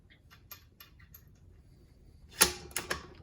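A rifle bolt on a custom bolt-action build, a Savage type, is worked and closes on a headspace gauge, giving a few faint clicks and then a sharp close-up metallic clack with a brief rattle.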